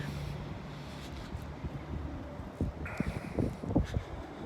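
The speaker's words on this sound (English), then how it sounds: "It's windy out here." Wind blows steadily outdoors around a 40-foot antenna tower, a constant broadband rush with some gusty rumble and a few rattling knocks toward the end.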